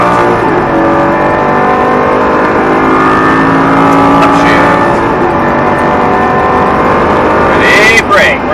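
A Lamborghini engine pulls hard on a race track, a loud continuous roar with rising harmonic pitch as it accelerates, dominating the whole stretch with a brief shift-like dip near the end.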